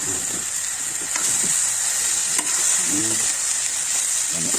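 Tomatoes and sponge gourd sautéing in a pan, giving a constant bright sizzle with occasional stirring scrapes and knocks, close by, with a faint voice in the background.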